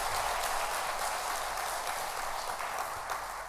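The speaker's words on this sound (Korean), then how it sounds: "따뜻한 박수 부탁합니다" Sustained applause from a church congregation during a revival meeting in Jochiwon, honouring the Hosanna choir, a steady dense clapping wash that holds evenly for several seconds without talk.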